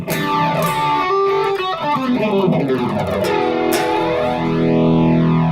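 A distorted electric guitar with chorus in the amp's effects loop plays sustained notes and chords with a wavering, swirling chorus shimmer, loud and alone.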